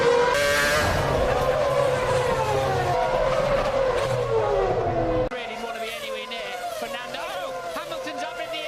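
Formula 1 cars race and one loses its back end and skids, with engines wailing and tyres squealing loudly throughout, while a commentator talks excitedly over the action.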